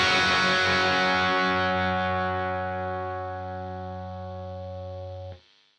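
Electric guitar played through a Boss GT-1000 amp modeler with gain: a single distorted chord rings out loud and sustained, slowly fading for about five seconds before being cut off abruptly.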